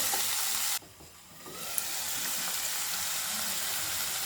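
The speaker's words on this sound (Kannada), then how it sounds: "ಇತ್ತ ಕ್ಯಾಪ್ಸಿಕಮ್ ಚೂರು ಫ್ರೈ ಆವೊಂದು ಬತ್ತಂಡು" Chopped capsicum fries in a pan with a continuous broadband sizzle. The sound briefly dips after a short moment, then resumes steadily and close, with no voices.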